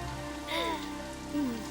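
Rain falls steadily in a Tamil film scene, an even wash of patter throughout, with faint tonal sounds rising and falling over it and no talk.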